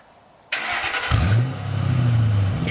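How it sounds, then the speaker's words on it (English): A 450-horsepower big-block V8 muscle car cranks briefly, then catches and settles into a deep, loud, rumbling idle close by, with no one talking. "That right there is 450 horsepower, big block V8."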